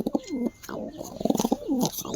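Pigeons coo close by in a loft, several soft, throaty rolling calls following one another in quick succession.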